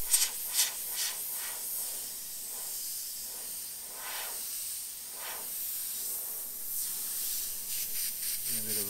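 A Sagola XTECH 200 airbrush sprays paint in short airy hisses, pulsing on and off in bursts, then builds into a steadier spray near the end.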